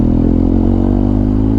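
Motorcycle with a boxer engine and an Akrapovic exhaust, running steadily close by with a deep, even harmonic drone and no talking.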